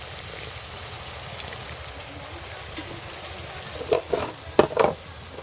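Masala for a village-style pangas fish curry sizzles steadily in a pan, then a few louder bursts of stirring and spattering break through near the end.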